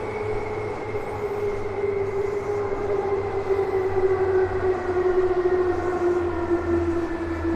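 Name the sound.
Yamanote line train passing in Tokyo at night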